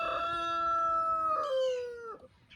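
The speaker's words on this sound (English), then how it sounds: "with the roosters crowing back and forth" A rooster crows once in a long, drawn-out call, fairly faint and distant, with no voices over it.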